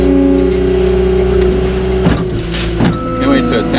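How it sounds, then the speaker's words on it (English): A vertical lift machine used for loading trucks runs with a steady, loud engine drone close by, its pitch holding nearly constant, with a few brief sharper noises layered over it. "This machine, the vertical lift, huge difference."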